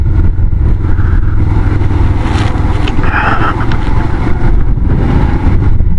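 A motorcycle engine hums loudly and continuously while being ridden on a wet mountain route on the Adi Kailash pilgrimage, with heavy wind and road noise and no talk.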